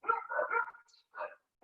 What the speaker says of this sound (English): I have two dogs, I'm sorry if you can hear them.